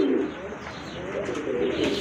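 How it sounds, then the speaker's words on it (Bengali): A pair of Rajgolla pigeons coo softly at close range in a pigeon-selling setup, giving low, rolling calls that repeat over a faint background hum. "এক জোড়া রাজগোল্লা কবুতর দেখেন"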